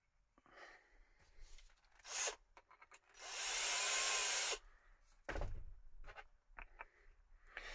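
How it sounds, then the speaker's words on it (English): A power driver runs screws into wooden speaker stands, with one sustained whirring burst of about a second and a half set among small handling knocks and rubs, close and fairly quiet. "now I just want to put the screws in because I want to get them all lined up"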